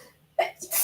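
One quick, close sneeze bursts out sharply and is followed by a brief breathy tail.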